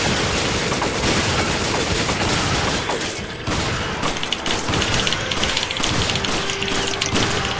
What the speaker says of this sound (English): If we shoot the weak spot with the machine gun, we can drop him.